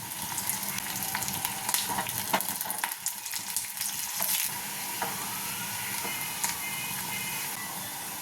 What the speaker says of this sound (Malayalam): ഇനി ചെറിയ ഉള്ളി അരിഞ്ഞിട്ട് 2 ഉണക്കമുളക്, കുറച്ച് കറിവേപ്പില,